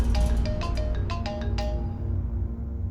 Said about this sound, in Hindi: आप फोन क्यों नहीं उठा रहे?